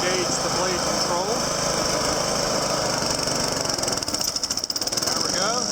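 A Honda HRM215 lawn mower runs with its blade engaged, a steady close engine drone with a buzzing knock that stays continuous and rises slightly in roughness partway through, while a person speaks over it.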